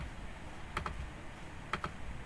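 A computer mouse clicks quietly at a desk during Canva design work: two quick double-clicks about a second apart, faint over a low room hum.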